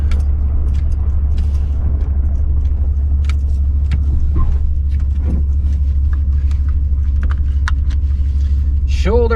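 A 1993 Chevy K3500 dually 4x4 pickup rolls along a driveway with a steady, heavy low rumble throughout, small rattles and clicks on top, and a brief voice near the end.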